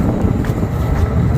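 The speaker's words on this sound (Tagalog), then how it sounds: "Ang lakas ng hangin." Strong wind near the sea in snowy weather buffets the microphone in a continuous, rough low rumble, with no other clear sounds.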